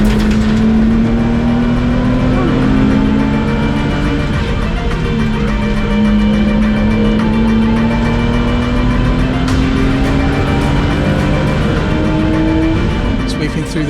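Porsche Sprint Challenge race cars roar through the Clearways corner in a close train, loud sustained engine drone with shifting pitch as they pass, commentary talk running underneath.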